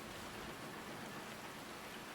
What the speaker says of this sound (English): Mercifully, the rain was light.